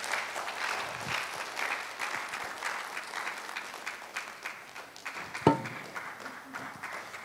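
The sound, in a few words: audience applause welcoming speakers back to stage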